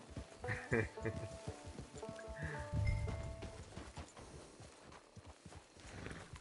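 Horse hooves clop in Red Dead Redemption 2 Online in a quick, uneven rhythm up close, with faint animal calls and tonal game sounds in the background.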